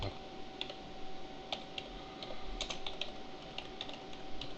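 Steady typing on a computer keyboard, a run of light, closely spaced key taps over a constant hum of background noise, close up and fairly even in level.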